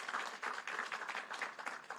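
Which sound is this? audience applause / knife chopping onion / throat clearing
audience applause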